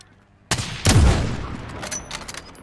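Gunfire in the Call of Duty Warzone video game: a sharp opening shot, then a heavy booming blast followed by a scattered volley of fainter shots and a rumbling tail.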